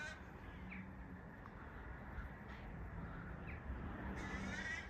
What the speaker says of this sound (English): I like crows versus kites plural. That's what all the noise is.